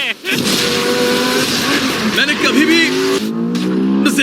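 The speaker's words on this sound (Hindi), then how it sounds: "ये कार दुनिया की तेज कारों में से इसीलिए है क्योंकि इसके अंदर ट्विन टर्बोचार्ज्ड V8 इंजन लगा है" A supercar with a twin-turbocharged V8 engine roars at speed, a loud, steady engine drone with rising tones under excited voices talking over it.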